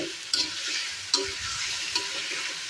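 Chicken cooking down with spices in a pan, a soft continuous sizzle broken by three crisp spatula scrapes and stirs at roughly even intervals.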